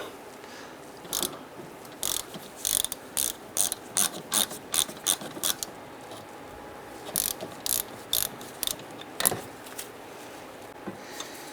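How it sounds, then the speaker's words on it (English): Hand ratchet removes the brake caliper bolts on a 2006-10 Honda Civic in quick bursts of sharp clicking, several clustered runs separated by short pauses, close and alone. "I'm going to go ahead and remove the caliper bolts, this one here, and do the same for the top"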